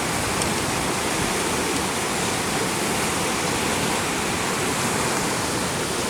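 The Kalu River surges in monsoon flood, a loud continuous broadband roar of rushing water with no break, close and unvarying.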